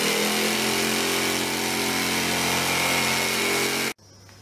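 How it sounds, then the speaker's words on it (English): A jigsaw cuts around a plastic barrel being made into a wicking self-watering garden bed, its loud, steady buzzing motor running nonstop before stopping abruptly near the end. "cut around your barrel with your jigsaw."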